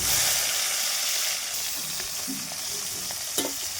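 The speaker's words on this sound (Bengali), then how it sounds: "কড়াইয়ে তেল দিয়ে গরম করে নিয়েছি গরম তেলে মাছগুলো দিয়ে দিচ্ছি" Pieces of fish rubbed with turmeric and salt sizzle loudly in hot oil in a wok, a dense, steady frying hiss throughout with a few small spatters and clinks near the end.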